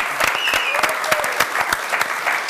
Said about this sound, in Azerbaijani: Sürəkli alqışlar var